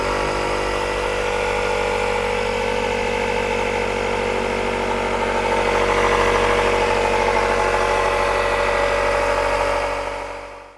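Compressed air hisses steadily into a tire on a Roadrunner RS5 series wheel during a tire change, a continuous loud, even rush that holds for about ten seconds before cutting off at the end.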